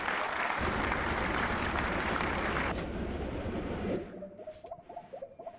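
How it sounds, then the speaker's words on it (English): Applause in a video game: a dense, loud wash of clapping that runs for about four seconds, then cuts off into quieter game sounds and short chirps. "What was the applause for?"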